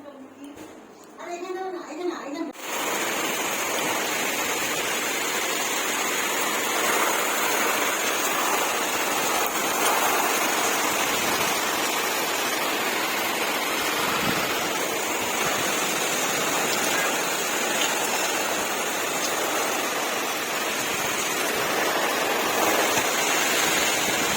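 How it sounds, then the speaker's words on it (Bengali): A brief voice opens, then a loud, unbroken roar of heavy rain and gusting wind takes over and holds steady to the end. "কি জোরে হাওয়া দিচ্ছে কি জোরে জোরে বৃষ্টি পড়ছে ঝড় হচ্ছে"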